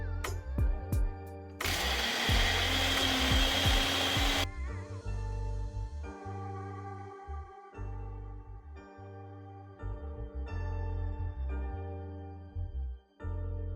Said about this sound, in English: I'll be blending cucumber, apples, curry, avocado pear, and spinach together